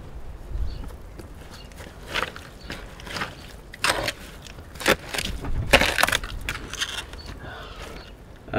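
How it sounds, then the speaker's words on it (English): Digging through a thick layer of broken glass and crockery in an underground structure, with repeated crunching, scraping and clinking strokes in an irregular rhythm, close and fairly loud. "There's a ton of broken glass down here"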